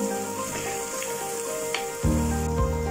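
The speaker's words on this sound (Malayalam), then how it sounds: "നന്നായിട്ടൊന്ന് വഴറ്റി കൊടുക്കുക" Crushed shallots sautéing in a pan for spicy chicken kondattam, a soft steady sizzle that swells louder near the end as they are stirred.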